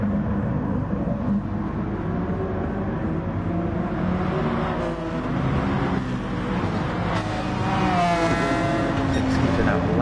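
Race cars, a McLaren and a Honda NSX, in GT Sport, with a steady loud engine drone and shifting pitch as the cars run close, under continuous commentary.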